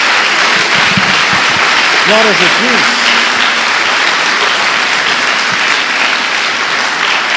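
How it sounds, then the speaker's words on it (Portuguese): Church congregation clapping in praise to the Lord: loud, continuous dense applause filling the room, with a voice briefly calling out over it early on. "Dê uma salva de palmas ao Senhor."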